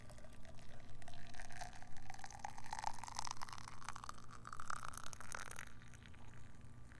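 Water that is not very hot is poured for tea, a continuous trickling fill whose pitch rises as the vessel fills, then stops near the end.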